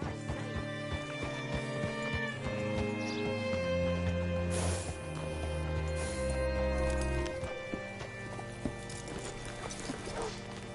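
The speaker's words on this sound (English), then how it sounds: "Hitch your horse up here." Horse hooves clip-clop at an unhurried pace in Red Dead Redemption 2, with a whinny partway through, set against game music and ambient tones.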